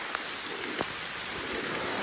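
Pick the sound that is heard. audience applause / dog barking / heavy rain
heavy rain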